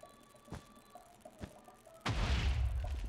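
Explosion in a Minecraft Bed Wars match: two soft thumps, then a sudden loud boom whose rumble fills the last second, with no talking over it.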